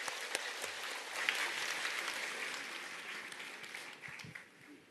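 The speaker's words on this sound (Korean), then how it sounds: "박사님을 힘찬 박수로 모시도록 하겠습니다" An audience claps to welcome a speaker onto a stage. The applause is a dense, steady, mid-distance patter that holds for about five seconds and fades slightly at the end. No one speaks over it.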